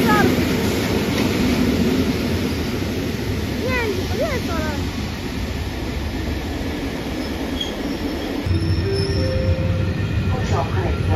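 A freight train pulls into Lublin Główny station with a loud, steady rumble of rolling wagons and squealing wheels, a constant mechanical roar close by throughout.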